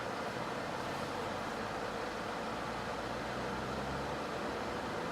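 Chevrolet Cobalt SS Turbo with an F40 six-speed manual pulling away in first gear, heard from inside as a steady, unbroken drone of engine and road noise with no talking.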